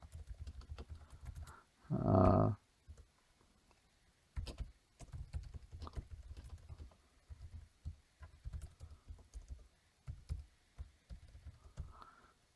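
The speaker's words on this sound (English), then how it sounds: "the keys are ready to go, and I can start typing" Intermittent typing on a Microsoft Sculpt Ergonomic keyboard, soft clicks in short bursts with pauses, close by and fairly quiet, with one louder thump near the start.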